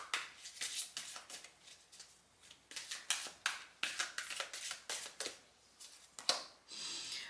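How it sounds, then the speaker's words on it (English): Round tarot cards being shuffled by hand during a reading: a quick run of crisp riffling and slapping bursts, close and fairly quiet, with no talking. "It's always harder to shuffle these round cards."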